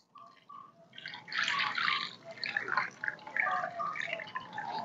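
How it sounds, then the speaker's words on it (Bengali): Water is poured onto a freshly transplanted Inca marigold in a pot, a soft splashing and trickling that starts with a few light drips, then swells into a gentle steady pour close by. "বন্ধুরা, এবার আমি জল দিয়ে দিচ্ছি।"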